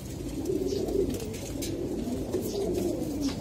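Homing pigeon, a long-distance Giribaz racer, cooing steadily in soft low repeated coos throughout, close by, with light background noise and no talk.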